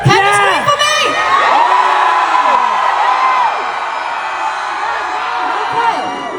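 A K-pop concert crowd at a tour showcase screams and cheers loudly, a dense wall of high shrieks and whoops that stays up for several seconds and eases slightly toward the end.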